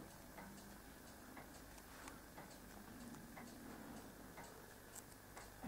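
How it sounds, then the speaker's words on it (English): A large grandfather clock with a moon phase dial ticks steadily and evenly, close and fairly quiet, with no voices over it. "You should be able to hear that ticking as well."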